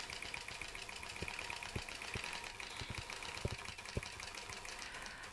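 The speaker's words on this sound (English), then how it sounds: "I'm now going to sew the CurlyQ on the other side." A sewing machine stitches a CurlyQ quilt block for a fan design, a soft, even mechanical whir with fine rapid stitching and a few low thumps at irregular intervals, heard faintly and alone.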